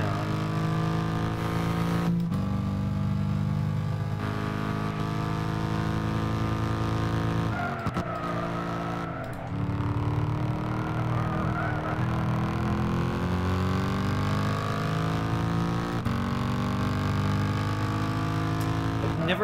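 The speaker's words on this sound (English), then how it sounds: "Never heard a car with that exhaust note." A race car engine in a driving video game roars steadily, with rising and falling revs and gear shifts that break the note around the middle, loud and continuous with no talk.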